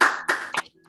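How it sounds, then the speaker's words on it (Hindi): A few online participants clap after unmuting themselves during a meditation session, three short bursts of close, slightly distorted clapping that cut off abruptly into near silence. "अपने आप को अनम्यूट करके ताली बजाएं"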